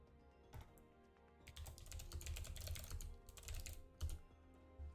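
Someone typing on a clicky computer keyboard right beside the microphone, with quiet bursts of close, crisp keystrokes in uneven runs and short pauses, and no speech.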